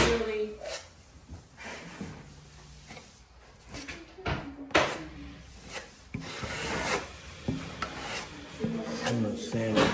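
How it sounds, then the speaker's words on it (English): Dried drywall mud filling holes in an old door is sanded by hand in short, uneven rasping strokes, close and fairly quiet, with knocks and pauses between passes and bits of talk. "I'm sanding it off."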